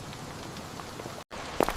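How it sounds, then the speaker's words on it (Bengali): Cartoon rain falls as a steady, even hiss, breaks off for a moment of silence, then returns with a few brighter spattering drops near the end. "আবার বৃষ্টি।"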